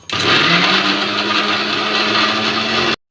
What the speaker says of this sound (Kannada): ಕೊತ್ತಂಬರಿ ಸೊಪ್ಪು, ಪುದೀನ, ಶುಂಠಿ, ಕಾಯಿ ತುರಿ ಎಲ್ಲ ಹಾಕಿ ಒಂದು ಮಿಕ್ಸಿ ಜಾರ್ಗೆ ಹಾಕಿ ನುಣ್ಣಗೆ ರುಬ್ಕೊಳ್ರಿ.